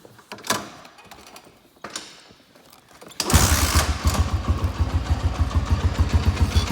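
A 1987 Honda TRX 250X ATV engine, already warm, cranks and catches partway through, then settles into a steady, close, loud idle with a rapid even pulse after a few quieter clicks and knocks.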